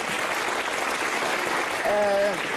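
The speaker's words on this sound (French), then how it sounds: "Je vous demande d'applaudir Yvonne Poncé Benissol" A studio audience on a French talk show breaks into steady, dense applause that fills the whole stretch, with a brief voice rising over it near the end.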